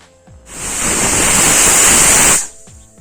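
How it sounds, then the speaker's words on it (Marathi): A pressure cooker vents steam while cooking drumstick pods for soup, a loud, steady rushing hiss that bursts in, holds for about two seconds and cuts off sharply. "आता याच्या 2 शिट्ट्या काढूया"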